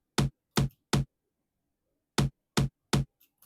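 A second tom drum sample in an Afro House beat made in FL Studio plays as a punchy pattern of three quick hits, a pause, then three more, each short and full-bodied with clean silence between, followed by faint trailing taps.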